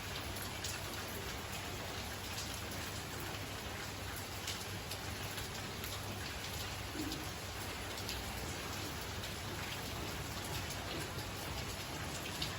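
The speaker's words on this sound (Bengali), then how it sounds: "বাইরে বৃষ্টি হচ্ছে।" Steady rain falls outside on a cool day, a soft, even hiss of drops on surfaces that continues unbroken and without talk.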